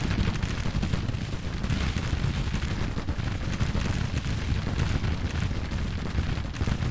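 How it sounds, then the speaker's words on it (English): Continuous dense crackle and rumble of massed musket volleys and artillery fire from a Civil War battle in Grand Tactician, a steady, loud roar with no let-up and no voices. "This house is going to collapse from the might of the musket fire."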